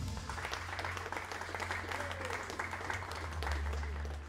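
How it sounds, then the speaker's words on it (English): An audience claps for a coach and shooter introduced at a women's 50 m rifle three-positions final, steady, moderately loud applause over a low constant hum in the hall. "A big applause for the coach Chen Xie and his shooter"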